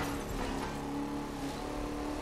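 A big, long limousine driving in The Crew 2, a steady engine drone with a low hum and a faint tonal whine, continuous and moderately quiet throughout the short stretch.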